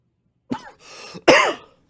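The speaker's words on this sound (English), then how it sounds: "I got a cough." A single person's throat clearing followed by a louder, harsh cough, close and alone in silence.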